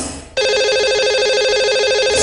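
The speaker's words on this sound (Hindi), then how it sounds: "लगाते हैं इन्हें कॉल और करते हैं इनसे बात" A telephone line rings to connect a caller on a radio show, a single bright, buzzing ring tone that starts abruptly and holds steady for about two seconds, clear and alone.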